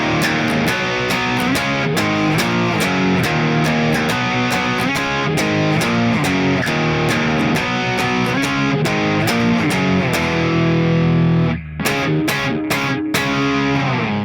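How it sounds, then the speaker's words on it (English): Distorted electric rhythm guitar strums power chords in the chorus, loud and driving in a steady chugging rhythm with a brief gap near the end, no voices. "And then the rhythm guitar part in the chorus sounds like this."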